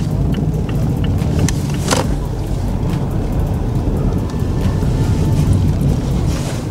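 Steady engine and road rumble from a car driving to a parking spot, heavy wind buffeting the microphone throughout, with no talk.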